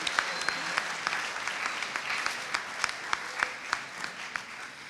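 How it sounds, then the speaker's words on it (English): An audience at a military academy assembly applauds cadets, a steady round of indoor clapping from many hands with a few sharper individual claps standing out, moderately loud throughout. "please join me in giving them another round of applause"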